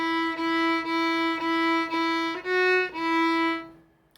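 Violin playing measure 5 of part B of the beginner tune Lightly Row, a clear bowed line of about six evenly spaced notes in a steady rhythm, close and moderately loud, the last note ringing briefly before fading.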